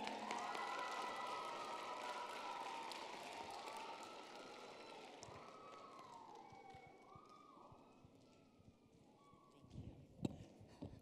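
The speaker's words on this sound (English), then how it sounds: "Give her a round of applause" A crowd at a school awards chapel claps steadily in a dense wash of applause, a few whoops and calls rising over it, fading slightly before a couple of sharp louder bursts near the end.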